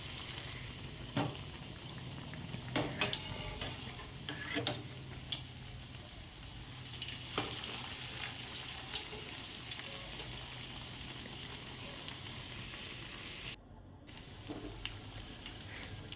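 Potato bread pieces roasting crisp in a pan give a faint, steady sizzle with scattered soft clicks and taps from stirring, close but quiet throughout.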